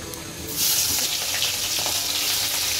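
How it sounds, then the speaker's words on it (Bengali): Shrimp drop into hot oil in a pan and begin lightly frying, a bright sizzle jumping up suddenly and holding steady and close with faint crackles, with no talking over it. "চিংড়ি মাছটা একবারে হালকা ভাজবো।"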